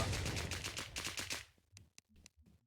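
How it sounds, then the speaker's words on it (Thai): Gunfire in the video game WarZ: a rapid burst of about eight loud automatic shots in quick rhythm, followed by a few scattered, quieter clicks and single reports after it stops. "ก็ขออภัยในเสียงปืนที่ดังเกินไป"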